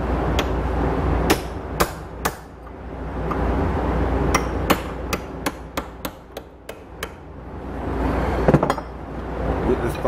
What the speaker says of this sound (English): This chisel.